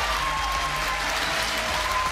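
A studio audience at a Hungarian talent competition applauds the winning pairs in a dense, steady wash of clapping that fills the whole moment, loud and unbroken.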